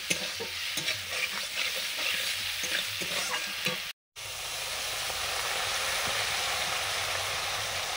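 Meat stuffing for stuffed pointed gourd frying in a pan, a steady hissing sizzle with repeated spatula stirs and scrapes in the first half, then a brief cut and a smoother, louder continuous sizzle, close up and without talking.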